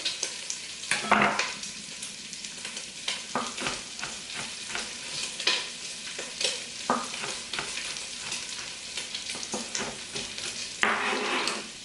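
Bacon fries in a pot for potato soup with a continuous crackling sizzle. A utensil stirs and scrapes now and then, and nobody speaks.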